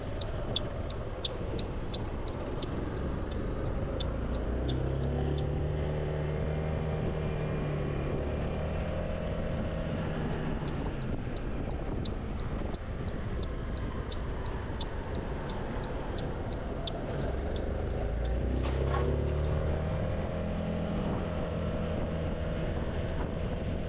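A SYM ADXTG 400 scooter engine runs at a steady idle, a loud continuous low drone with a rapid ticking layered over it throughout, and no talk.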